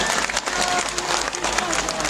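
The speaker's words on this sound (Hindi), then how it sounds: "जोरदार तालियों से स्वागत करें" Crowd applause at a public event in Ludhiana welcoming a speaker, a dense steady patter of clapping with voices speaking over it, loud and close throughout.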